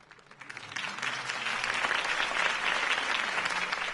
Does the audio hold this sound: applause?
yes